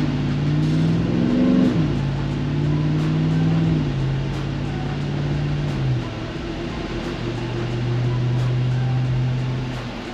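A 2021 Ram TRX engine rumbles loud and close with QTP Aggressor exhaust cutout valves open, rising in a brief rev before settling into a steady, droning idle with shifting tones.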